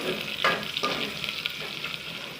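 A bunch of curry leaves and two green chilies fry in a pan, a steady soft sizzle with a few stirring scrapes, close and fairly quiet, no voices.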